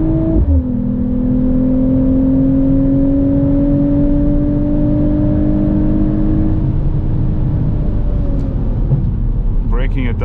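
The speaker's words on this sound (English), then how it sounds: "Full throttle again." Inside a 2025 Mercedes-AMG CLE53 coupe at full throttle on the German Autobahn, the engine holds a loud, sustained drone whose pitch climbs slowly, with road and wind roar beneath it.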